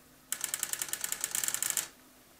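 A TRS-80 CGP-115 pen plotter draws text with a fast, rhythmic burst of mechanical ticking and whirring that lasts about a second and a half, loud and close, then stops.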